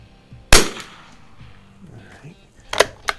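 A Winchester 52C rifle firing .22 Geco rounds: one sharp, close shot rings out, followed a couple of seconds later by a quieter double crack of shots or echoes, with faint mechanical handling noise between them.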